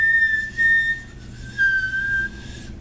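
A homemade harmonica built from popsicle sticks, blown in a few steady, high, whistle-like tones with short breaks between them, heard alone and close.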